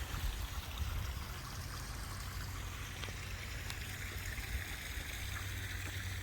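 A double waterfall in a spring Japanese garden with azaleas and maples gives a steady, soft rushing and babbling of falling water, constant and moderately distant, with no voices.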